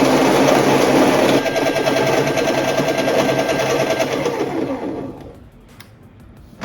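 A loud, steady mechanical grinding whir with a rattling buzz from a Baratza Encore conical burr coffee grinder grinding beans, running continuously for several seconds before abruptly winding down and fading to near silence.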